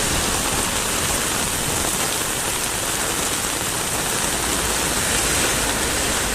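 Heavy rain pours down in a steady, dense roar, with water rushing continuously and no pauses or voices.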